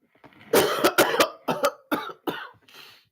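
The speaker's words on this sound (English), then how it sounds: "I still have the cough" A person coughs repeatedly in a close, loud series of harsh bursts, several quick coughs in clusters with short gaps between.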